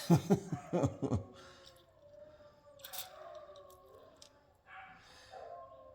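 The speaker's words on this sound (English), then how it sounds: "Sister's dogs are starting their bullshit again." A dog yips and barks several times in quick bursts, then gives drawn-out whining howls, moderately distant and fairly faint.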